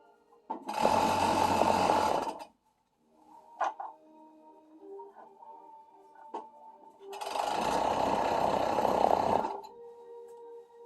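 A sewing machine stitching a bodice onto a skirt runs in two loud, steady bursts of a couple of seconds each. Between them, quieter clicks and fabric handling can be heard.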